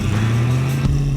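A yellow 1970s Lamborghini sports car engine gives a brief, loud, steady low drone at close range, with a slight rise near the end.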